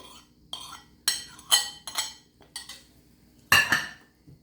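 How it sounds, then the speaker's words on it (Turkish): A spoon clinks and scrapes against a bowl while çökelek cheese is mixed with olive oil, red kapya pepper and other vegetables, in about seven separate close, sharp bursts with short quiet gaps. "Şimdi bu çökeleği zeytinyağıyla önce bir güzelce sebzelerle karıştırıyorum"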